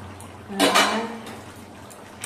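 A metal lid set onto a cooking pot of meat curry in a home kitchen, one brief clattering clink of metal against metal, close by and fairly loud, then quiet.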